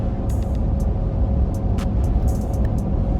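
A 2023 Ford Shelby F-150 Super Snake truck engine runs at part throttle, giving a steady, loud low rumble with road noise that stays level, with a few faint high ticks above it.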